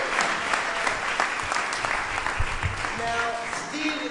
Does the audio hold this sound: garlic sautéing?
no